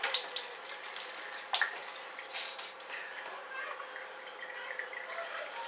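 Tap water runs softly and steadily into a kitchen sink while bread is squeezed out under the stream for a roast chicken dressing, faint and close with a few brief splashy spikes.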